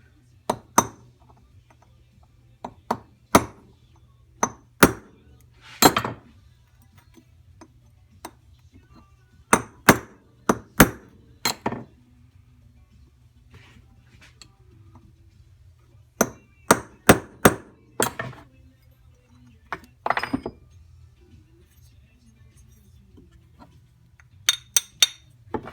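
Hammer blows on a small punch against a Norton Commando 750 part, sharp ringing metallic strikes in uneven clusters separated by pauses, close and crisp over a faint low hum.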